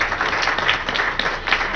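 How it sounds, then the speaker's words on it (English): Steady applause from a meeting audience at a housing tools and strategies session, many hands clapping densely and continuously at moderate loudness with no talk over it. "Round of applause for group number 3."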